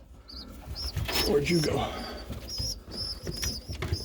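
Pigeons inside a loft cooing softly and chirping, with some rustling and wing movement close by, while a person speaks briefly over them.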